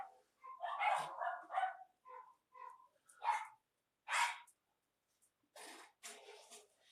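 A dog barks and woofs in several short bursts spaced by silences, fairly close and fairly quiet, with no talking.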